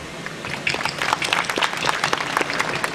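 Steady applause from a graduation audience at a 2016 class valedictorian speech, many hands clapping in a dense, sustained patter that swells slightly after the opening moment.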